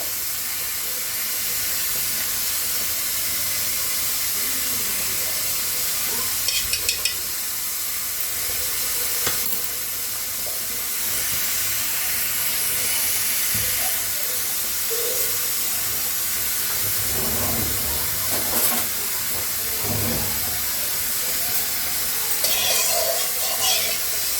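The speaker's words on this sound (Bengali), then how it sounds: "কড়াটা গরম হয়ে গেছে, এর মধ্যে আমি তেল দিচ্ছি। এর মধ্যে এবার আমি 2 চামচ ঘি দেবো।" Oil and ghee heat in a hot wok for Lucknowi tomato chicken, giving a steady broad hiss throughout with a few faint clinks and soft bumps scattered over it.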